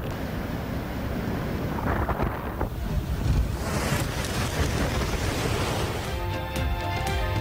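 Hurricane Maria lashing Puerto Rico: a steady, dense roar of wind and heavy rain with deep rumbling underneath, loud and continuous throughout, with no talking.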